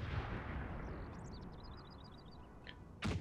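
Artillery batteries fire in a Napoleonic-era strategy battle, a low continuous rumble of distant cannon with a sharper boom near the end.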